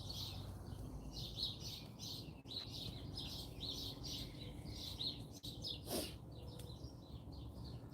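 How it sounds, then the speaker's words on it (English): Birds chirping and calling repeatedly in the early morning outdoors beside a firepit, a steady stream of bright tweets in the mid-distance, moderately faint over a low background hum. "I hear you, birds. I hear you."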